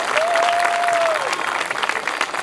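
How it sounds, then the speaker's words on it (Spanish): Audience at a Chilean horse heritage talk applauds an honored guest, steady close clapping throughout with a brief whistle or cheer early on and crowd murmur beneath. "doble aplauso para él"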